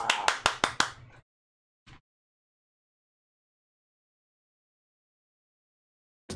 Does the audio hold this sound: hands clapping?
yes